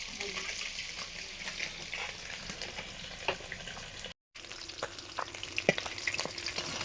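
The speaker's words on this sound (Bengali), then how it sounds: "মাছের মুড়োটা ভাজা হয়ে গেছে, তুলে নিচ্ছি।" Continuous crackling sizzle of a fish head frying in hot oil, close and steady, with occasional pops and a brief dropout midway.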